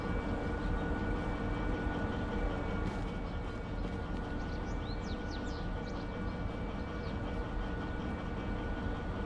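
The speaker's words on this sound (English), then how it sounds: "Yes, the other train pushes us." A train rolls along as it is pushed by another train, a steady low rumble with a continuous hum, heard from on board, with faint squeals and chirps partway through; no talk.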